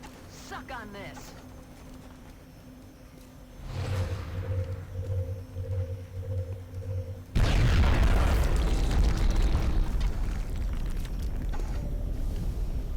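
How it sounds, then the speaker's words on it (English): A rocket goes off in the video game XCOM Enemy Within, a sudden loud booming blast that fills the sound and rumbles on for several seconds after a quieter stretch of game tones. "If there ever was a time for a rocket in this series, this is it."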